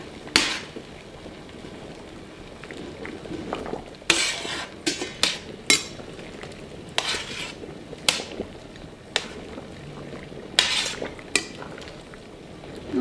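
A utensil scrapes and clatters around a pan of shrimp pasta, giving irregular knocks and scrapes over a steady low background hiss, close by with no talk.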